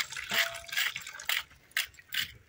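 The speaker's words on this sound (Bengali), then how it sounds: "এইভাবে নেটের মধ্যে দিয়ে জলটাকে ছেঁকে নেবো। দেখুন কত জল বেরোচ্ছে।" Grated ash gourd is squeezed by hand through a net, releasing several short splashy bursts of water that trickle and drip in quick succession, close and fairly quiet.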